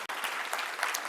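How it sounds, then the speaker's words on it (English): An audience at a foundation gift announcement claps briefly, a dense, even patter of many hands heard from within the room. "Yeah, definitely worth clapping"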